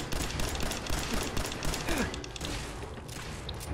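Gunfire in Fallout 4 crackles in a dense, continuous volley under a busy game soundscape, with overlapping shots and thuds across the whole stretch at moderate loudness.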